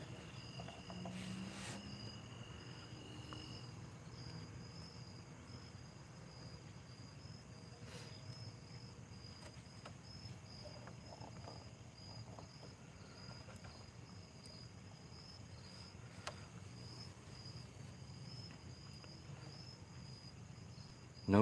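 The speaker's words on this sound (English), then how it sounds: "Do you hear the crickets?" Crickets chirp at night near a fire pit on a still evening, a faint continuous high trill running steadily under a quiet low background hum with occasional small clicks.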